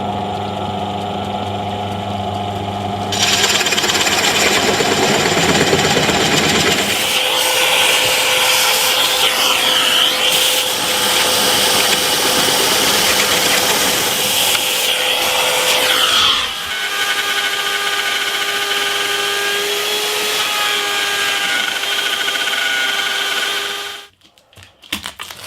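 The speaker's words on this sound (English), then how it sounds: "I'm going to take a chunk out the middle with this big Forstner bit" A drill fitted with a big Forstner bit bores through a wooden routing template for a guitar build. The motor roars and grinds loudly and continuously for about twenty seconds, shifting pitch as the bit cuts, then stops abruptly.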